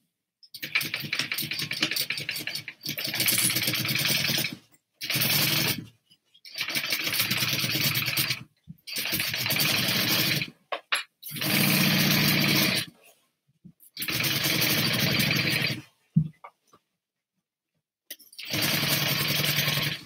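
Domestic sewing machine stitching a satchel bag panel, running in repeated steady bursts of about two seconds separated by short silent pauses, close and fairly loud with no talk.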